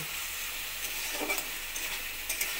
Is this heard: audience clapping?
no